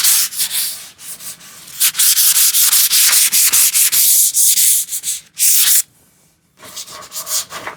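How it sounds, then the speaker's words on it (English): Rough, rhythmic hand sanding of worn wood, loud and close, with long scratchy strokes and short pauses between them. "Sanding this just to make sure that I start smooth."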